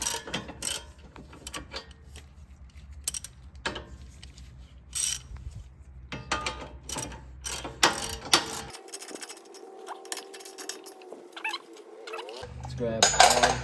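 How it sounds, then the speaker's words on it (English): Ratchets and wrenches work on an Acura RSX brake job, giving rapid clicking ratchet pawls and metallic tool clinks in irregular bursts, close and moderately loud, with a low steady hum underneath. "Ratchets and wrenches."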